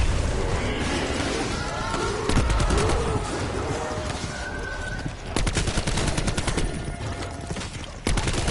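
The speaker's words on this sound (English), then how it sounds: "go ahead, get our machine gun out." A Death Machine minigun fires in Black Ops 4 Zombies during a high round, with long, loud continuous bursts of rapid gunfire broken by short pauses and mixed with crashes and other game noise.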